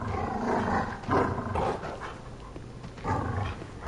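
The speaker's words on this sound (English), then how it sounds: "I can hear the dogs." Dogs in the video game Dark Souls 3 growl and snarl in rough, rumbling bursts over a dense game soundscape, moderately loud and continuous.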